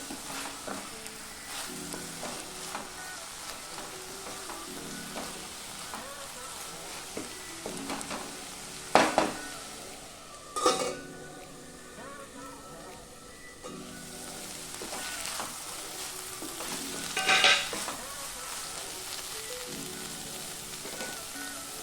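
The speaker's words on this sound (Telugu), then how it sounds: "మనం ఇలా మూత తెరిచి మధ్య మధ్యలో కలుపుకుంటూ ఉండాలి." Amaranth leaves fry with a steady sizzle in an open pan, and a spoon stirs them now and then with a few louder scrapes against the metal, close and continuous with no talking.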